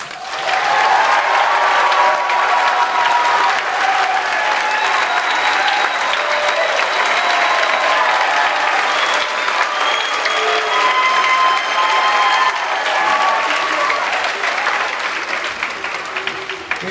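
At a jazz festival, a crowd breaks into long, loud applause mixed with cheers and whistles, holding strong for well over ten seconds before easing slightly at the end.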